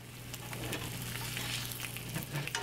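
Eggs frying in a pan, a steady close sizzle and crackle that carries on without a break, with a few small stirring or scraping touches and no talk.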